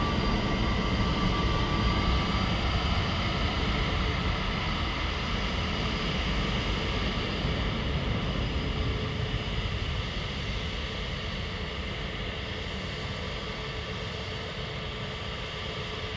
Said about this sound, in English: EasyJet A320neo to Bristol.